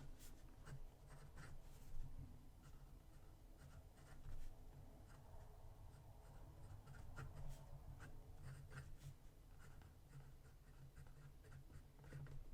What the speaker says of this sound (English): That nib just kind of glides over the Rhodia paper.